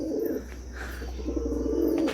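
Malwai and Giribaz pigeons in a loft give low, steady, rolling coos close by, with a few soft chirps and no talking.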